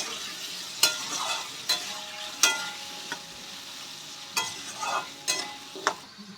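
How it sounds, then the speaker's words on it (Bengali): Potatoes with salt and turmeric powder frying in oil until reddish, a steady close sizzle broken by repeated sharp scrapes and clacks of a spatula stirring the pan at irregular intervals. "এবার আলুগুলো আমি লাল লাল করে ভেজে নেব।"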